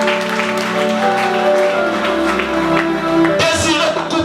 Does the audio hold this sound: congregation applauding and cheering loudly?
yes